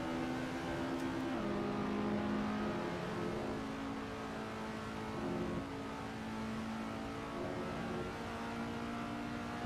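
Race car engine in Assetto Corsa holding third gear through a corner, a steady loud droning tone sagging low in the revs then pulling back up, continuous and close throughout.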